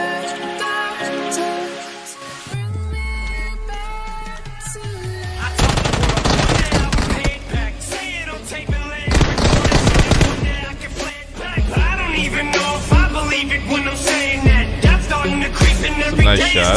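Gunfire in the battle royale video game PUBG: rapid sharp shots, mostly in dense clusters in the second half, mixed beneath loud background music.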